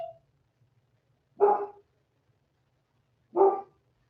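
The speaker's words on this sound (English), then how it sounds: "What are you barking about?" A boxer dog gives two deep, separate barks about two seconds apart, with quiet in between.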